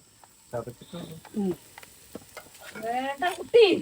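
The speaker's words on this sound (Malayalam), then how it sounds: "ഈ ഉണക്കമുളക് ഇട്ട് കൊടുക്കുന്നുണ്ട് കേട്ടോ" Crushed dried red chillies hit hot oil with shallots while a chicken dish cooks, giving a soft crackling sizzle and stirring that are partly masked by intermittent nearby talk.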